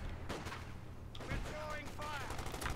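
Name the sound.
anti-tank guns firing in the video game Company of Heroes 2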